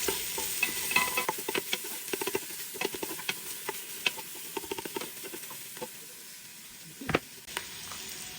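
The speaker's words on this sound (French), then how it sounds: "On va touiller." A spoon stirs food with bay leaves in a pan over lowered heat before lamb shanks go in. Irregular scraping clicks and taps sound against a soft sizzle and hiss, close up and without speech.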